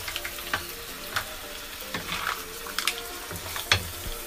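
Garlic and onions fry in a pan over low heat with a soft, continuous sizzle, broken by occasional clinks and scrapes of stirring.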